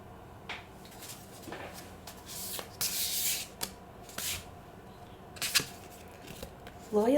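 Soft rubbing and sliding of oracle cards being handled and shuffled, with scattered brushing swipes and a few sharper flicks, quiet and close against a faint room hush.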